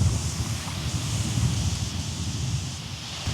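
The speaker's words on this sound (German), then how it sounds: "Oh, es wird windig." Steady wind roars and buffets a microphone outdoors, a continuous low rumble with rustling and no voices.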